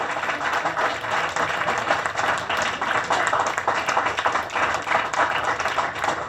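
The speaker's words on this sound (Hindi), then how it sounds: "जोरदार तालियां होनी चाहिए आपके लिए।" A theatre audience claps for a stage play, and the packed, continuous applause stays loud and even from start to finish.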